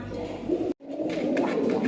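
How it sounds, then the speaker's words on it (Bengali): Rajshahi Giribaz pigeons in breeding mood cooing close by, a soft low rolling coo broken by a brief pause, then continuing steadily. "এক জোড়া রাজশাহী গিরিবাজ, ফুল অ্যাক্টিভ কবুতর"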